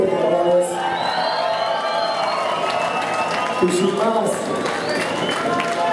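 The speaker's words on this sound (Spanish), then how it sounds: "por favor, regalen un aplauso fuerte" A crowd at a hip hop event in Mexico cheering, whooping and applauding continuously, a dense wash of claps and shouts with a voice speaking over the noise.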